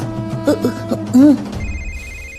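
A telephone rings with a steady electronic tone that starts after some indistinct voices and continues alone to the end.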